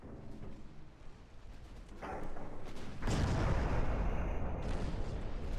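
Naval guns firing in Ultimate Admiral Dreadnoughts, a warship game, roll out as sustained heavy booming that swells into a dense, loud rumble after a few seconds, continuing without talk.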